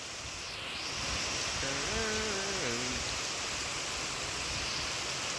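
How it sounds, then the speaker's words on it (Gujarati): Unseasonal rain falling in Junagadh, a steady broadband hiss of rainfall throughout, with a brief faint tonal call like an animal or distant voice partway through. "વરસાદનો અવાજ સાંભળો"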